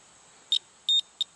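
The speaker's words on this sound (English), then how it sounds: "Turn it on continuity, which is just a" A digital multimeter on continuity setting, testing a shorted compressor, gives three short sharp beeps, the middle one longer, clear and close in a quiet room.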